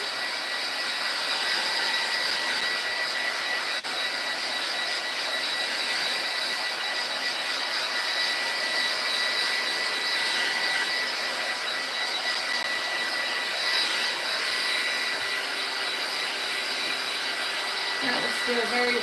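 A dryer on its high setting blows a loud, steady, unbroken whoosh close by while drying craft paint, holding constant throughout with only a faint clunk near the end.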